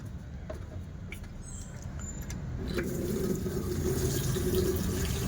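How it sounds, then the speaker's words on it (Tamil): Water runs from a tap into a bucket, the flow growing louder and steadier halfway through, with light clinks at the start. "பக்கெட்டில் தண்ணி எடு."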